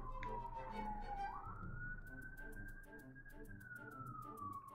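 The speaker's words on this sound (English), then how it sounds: "Can't tell if that's a ambulance or a police cruiser." Wailing emergency siren heard while running through a game world, most likely an ambulance rather than a police cruiser, sweeping slowly up and down in pitch and loud throughout with no talk.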